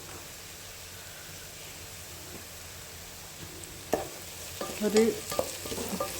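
Sliced onions with crushed ginger and garlic frying in a pan, a faint steady sizzle that gives way to louder scraping stirs near the end, close by, with a single brief spoken word.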